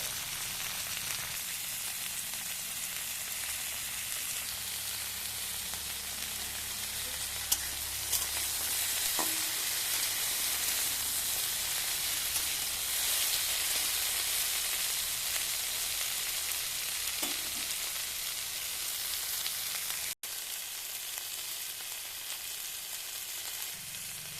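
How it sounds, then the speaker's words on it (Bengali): Mixed vegetables (radish, brinjal, taro and potato) frying in oil in a kadai, with a continuous loud sizzle and occasional stirring clinks, heard close up without talk for the whole stretch. "সমস্ত সবজি আমি ভালো করে ভেজে নিচ্ছি।"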